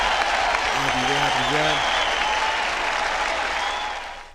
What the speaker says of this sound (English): So let's give a hand clap for that.